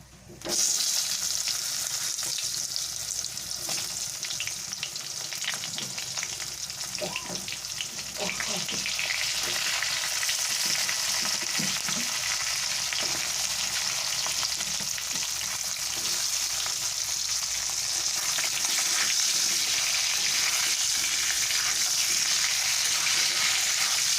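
Potato and pointed gourd fry in a pan of fish curry base seasoned with five-spice, giving a loud, steady sizzle that starts abruptly and continues close up through the whole stretch.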